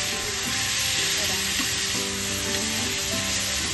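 Chicken for shawarma sizzles over a gas flame while being flipped, a steady, close, dense frying hiss running throughout with no voices.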